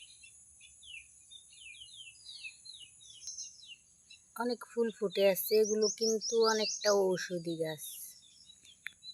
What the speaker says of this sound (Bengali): দেখেন পাখি কি সুন্দর কিচিরমিচির ডাকতেছে